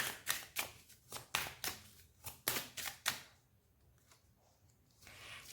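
Tarot cards being shuffled and drawn, about eight crisp papery riffling bursts in quick succession, close and fairly loud, then quieter scattered card handling, with no talk.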